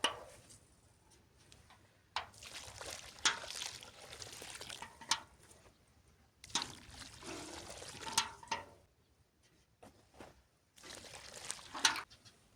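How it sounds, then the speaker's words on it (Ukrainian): Water is poured from a container onto a newly planted currant bush in a garden, coming in several soft, intermittent splashing bursts separated by quiet gaps. "поливаємо рештою води."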